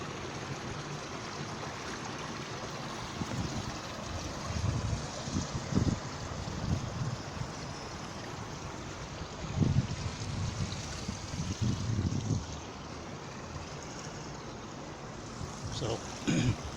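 Water from a typical overflow at the Rochdale Canal locks near Piccadilly Basin in Manchester pours down in a steady broadband rush, with wind buffeting the microphone and a few louder thumps.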